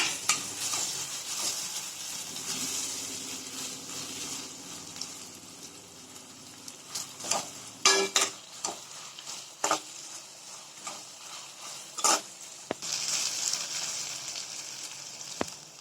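Onions with ginger garlic paste sauté in a pan for a green chicken gravy, a continuous close sizzle punctuated by sharp metallic scrapes and clinks of a spoon stirring.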